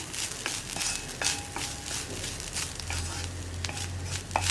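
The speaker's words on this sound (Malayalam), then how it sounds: "ഉപ്പും കൂടി ചേർത്തിട്ട് നന്നായിട്ടൊന്ന് ഇളക്കി ഈ തേങ്ങയൊന്ന് കുക്കായി തുടങ്ങണം" Grated coconut with salt is stirred in a hot pan for a Kerala horse gram (muthira) dish, giving a soft continuous sizzle broken by light scraping strokes of a spoon; nobody speaks.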